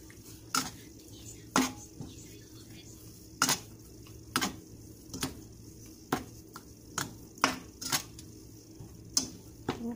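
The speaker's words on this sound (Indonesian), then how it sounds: "kita aduk-aduk lagi sampai airnya menyusut lagi ya." Pineapple jam with melted margarine stirred in a pan, a spoon or spatula tapping and scraping the pan in irregular sharp knocks every second or so, fairly close, over quiet background.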